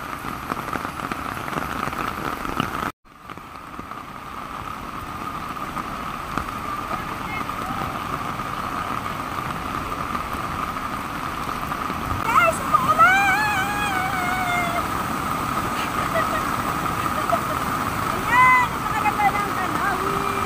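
Heavy torrent of water at the second of the seven falls of Lake Sebu, Cotabato, swollen by rain, a dense continuous roar broken by one brief dropout, with a person talking over it.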